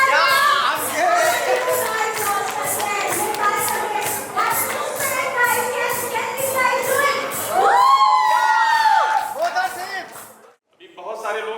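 An audience at a company associates and business partners event cheers and claps loudly for three winners, a dense continuous crowd roar with shouts and whoops, close and sustained before briefly dropping away near the end.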